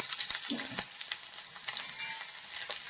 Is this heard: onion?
yes